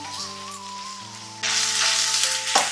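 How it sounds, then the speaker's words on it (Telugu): Thinly sliced onions drop into hot oil with cumin and curry leaves, and the sizzle jumps to a loud, bright, steady frying hiss over a sustained tonal background hum. "ఆనియన్స్ సన్నంగా కట్ చేసుకున్న ఆనియన్స్ కూడా వేసుకొని బాగా ఫ్రై చేసుకుందాం"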